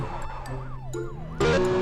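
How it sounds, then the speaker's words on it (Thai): Police car siren in a car racing video game featuring a McLaren, a wailing tone sweeping up and down behind a steady engine drone, then switching to a louder, harsher pattern near the end. "รถตำรวจแม่งจับโมซัวเว้ย"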